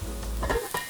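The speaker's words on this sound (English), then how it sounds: "I'm gonna saute up these mushrooms in oil and butter" Mushrooms sautéing in oil and butter give a brief, close sizzle with a stir, loud and alone for under a second.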